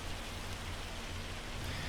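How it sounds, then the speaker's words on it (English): Hail beats down in Farming Simulator 25 as a dense, even wash of noise, steady and close for the whole stretch with nothing else over it. "The hail starts to slow down here pretty soon."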